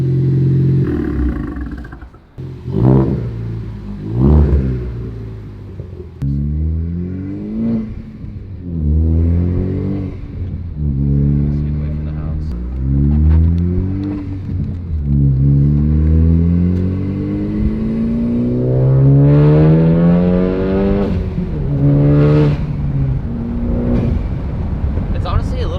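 Ford Focus fitted with an AWE Track Edition exhaust revs repeatedly up and down from close by, with rising and falling engine tones and short pauses between pulls, while people talk over it.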